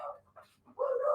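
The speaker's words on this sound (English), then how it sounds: "Dog's going crazy." A dog barks and yips indoors, fairly close: two short bursts, a brief pause, then a longer, louder bark, with no talking over it.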